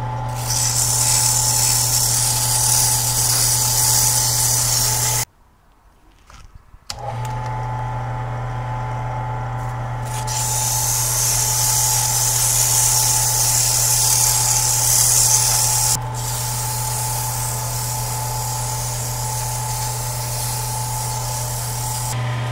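A lathe spins a pen blank on bushings against 320-grit sandpaper, giving a loud, steady whirring hum with a high hiss. The whir cuts out briefly, then resumes just as evenly and continues alone.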